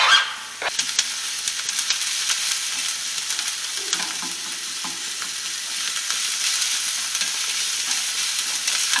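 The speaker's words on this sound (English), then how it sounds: "Now I'm going to add the pressed garlic and cook it just for a minute." Chopped onions and pressed garlic frying in a pan, a steady close sizzle and crackle throughout with occasional stirring scrapes, no voices.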